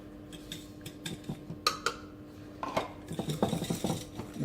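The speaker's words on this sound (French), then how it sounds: "nous allons donc mélanger les jaunes d'œufs avec le reste de sucre" Egg yolks and sugar are whisked in a bowl for pastry cream, giving a run of quiet close clinks and taps of a utensil on the dish that get quicker and busier toward the end.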